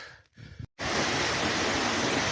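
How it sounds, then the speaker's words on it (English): Waterfall in a mountain stream in Cajas National Park, Ecuador, at high altitude in sleet: after a brief muffled rustle and a cut, a loud, steady rush of falling water continues close by. "Yet another cool waterfall."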